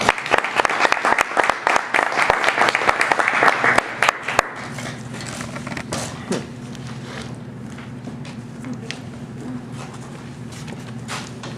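Enthusiastic audience clapping at a Toastmasters speech meeting, loud and dense for about four seconds, then breaking off into quiet room tone with a few stray claps.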